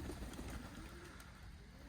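Pigeons coo softly inside a warm container loft, faint low throaty calls over a steady background hum.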